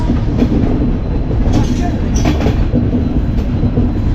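The Poorabiya Express train runs through heavy rain, a loud, constant rumble from inside the carriage with rattling and faint clatter throughout.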